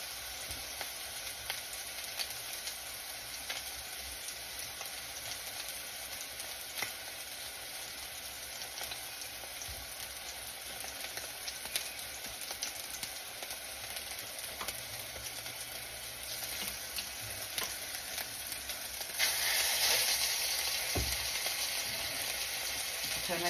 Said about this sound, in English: We're just going to brown them a little bit on both sides